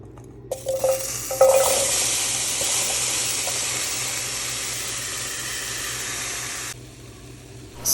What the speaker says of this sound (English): So I'm sauteing the peppers at this point.